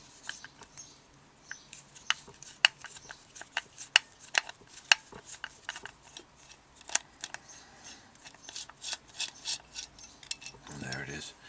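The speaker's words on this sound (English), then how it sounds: "Undo that screw." Phillips crosshead screwdriver working a screw loose on a Honda CB200 petrol tank cap: sharp, irregular metallic clicks and scrapes at close range, spread over several seconds, with a brief rustle of handling near the end.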